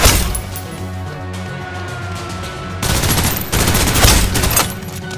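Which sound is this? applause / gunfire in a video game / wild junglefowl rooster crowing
gunfire in a video game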